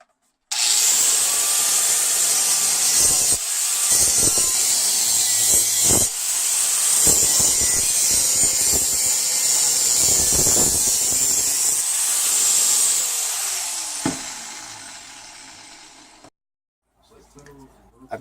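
Angle grinder grinding down metal pieces for welding, a loud continuous high-pitched shriek with gritty scraping and brief pauses, running for about fifteen seconds before stopping.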